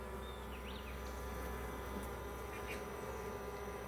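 Bees buzzing inside a hive, a faint steady drone with occasional brief higher whines of single bees passing close, continuous and without talk.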